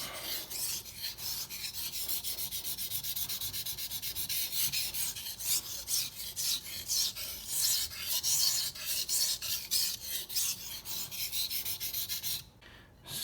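A knife blade stroked back and forth across a water stone, giving a close, rhythmic series of gritty rasping scrapes in quick repeated strokes, alone with no talking, stopping briefly near the end.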